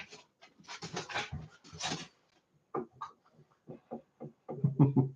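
Dogs, including a Jack Russell, pant and snuffle up close in short irregular bursts with pauses between.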